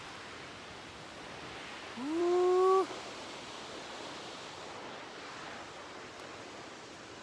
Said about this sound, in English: we are headed to Bajos Del Torro waterfall